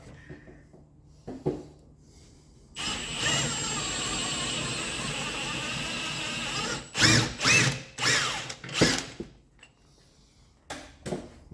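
A power tool undoing the top bolt of the rear upper suspension arm on a Vauxhall Insignia, one long loud whirring run followed by several short bursts, close up, with no talk.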